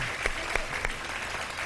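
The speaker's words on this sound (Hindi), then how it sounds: "बहुत सारी तालियां बजा दें जी" Studio audience applause on a televised iftar talk show, a steady even wash of many hands clapping with a few sharper nearer claps standing out, fairly soft in level.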